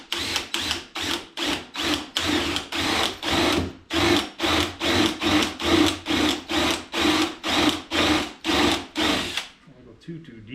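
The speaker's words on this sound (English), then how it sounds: "Actually found a 13/16 wood drill bit." A power drill turns a 13/16 wood bit into the wooden subfloor of a classic GMC Vandura van, whirring in about twenty quick pulsing bursts at close range before it stops.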